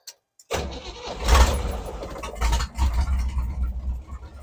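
A 1978 Chevy K-10 truck engine cranks and catches, rumbling up into a rough, uneven near idle with a few surges, loud and close.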